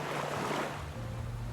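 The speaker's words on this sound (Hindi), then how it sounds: "काली रात, समंदर की उफनती लहरें" Ocean waves surge and rush with a broad, continuous wash, mixed with low wind rumble throughout.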